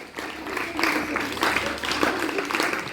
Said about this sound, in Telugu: give the claps to all groups